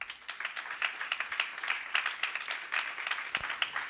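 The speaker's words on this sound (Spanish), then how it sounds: "Dale palmas al Señor." Church congregation applauding, a dense rolling burst of many hands clapping at a moderate distance, steady for several seconds with no one speaking over it.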